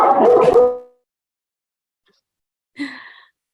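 A dog gives a loud, close bark or huff, then falls silent, and after a pause makes a shorter, thinner whine-like yelp, heard alone without speech.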